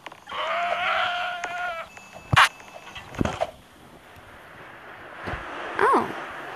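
Goat in a Roblox video game letting out a couple of short, wavering bleats amid game sound effects, creaks and other noises, with faint talk in the background.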